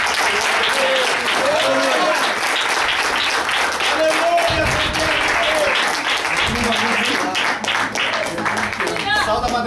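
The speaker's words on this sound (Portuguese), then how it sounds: "e muitas palmas" A church congregation claps and applauds loudly and steadily through the whole stretch, with singing or voices threaded through the dense clapping.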